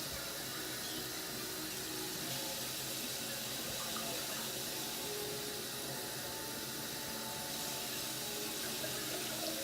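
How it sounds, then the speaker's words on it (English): Tap water runs steadily into a sauce pot being filled for cooking rice, a continuous close hiss and splash lasting throughout with no talking. "And you're going to put, I'm going to put water in there."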